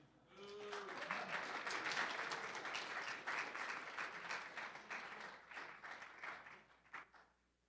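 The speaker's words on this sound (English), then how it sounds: "Thanks for clapping." An audience at a college lecture hall claps steadily for several seconds, dense applause that swells early and gradually thins out before fading away.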